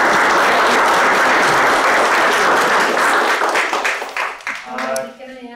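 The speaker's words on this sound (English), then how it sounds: "So everybody give a round of applause." A council meeting audience gives the fire department loud, sustained applause that holds steady, then thins out and fades into scattered claps and a few voices at the end.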